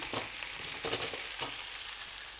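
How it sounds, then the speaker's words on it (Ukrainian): Peppers sizzle in a pan with a constant hiss, broken by a few scraping stirs; no voices. "Смажимо перчик до м'якості."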